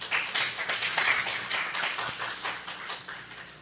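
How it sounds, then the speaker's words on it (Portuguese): Applause from a university congress audience greeting a professor at a history of science conference, a moderate spread of claps heard alone for a few seconds, no voices over it. "Professor, uma salva de palmas."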